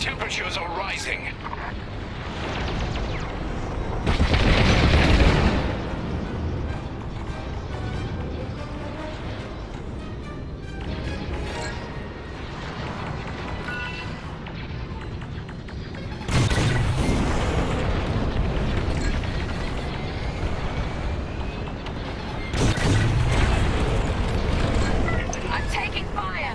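Thermal system explosions on a starship in the space-combat video game Star Wars: Squadrons, heard as several deep booming bursts that swell over a constant rumble of engines and game sound, mixed with radio chatter from characters.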